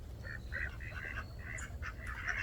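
Farm ducks, including green-headed drakes, quack in a string of short nasal calls at close to middle distance over a low rumbling background.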